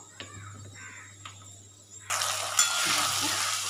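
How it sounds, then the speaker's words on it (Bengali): Tomato, ginger, cumin and green chili paste hits a hot wok, bursting into a loud, steady sizzle after a quiet start with faint stirring, continuing close up to the end. "টমেটো আদা জিরে কাঁচা লঙ্কা এই যে মিক্স পেস্টটা করেছি, এটার মধ্যে এবার কড়াইতে ঢেলে দেবো"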